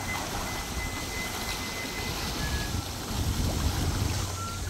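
Sea waves wash against a Busan breakwater at night in a steady, broad rush that swells slightly toward the end, with thin, faint whistling tones drifting over it and no speech.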